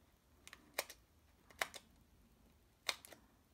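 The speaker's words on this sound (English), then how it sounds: "So let me get my scissors," Scissors make three crisp, quiet snips as they cut paper pieces for a simple birthday gift card holder, with pauses between the cuts in an otherwise still room.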